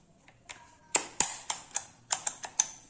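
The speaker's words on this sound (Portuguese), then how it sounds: "Você pega, puxa para trás e empurra até ouvir um clique." A drill bit snapping into the chuck of a Philco PMT01 900W rotary hammer gives a string of sharp, close plastic-and-metal clicks in an uneven rhythm, with no talking.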